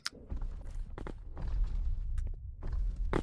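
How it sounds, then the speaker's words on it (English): Footsteps in the VR game Animal Company, a run of soft, fairly close steps with a steady rhythm over low game background noise, a few sharper scuffs in between. "I hear footsteps. I hear footsteps."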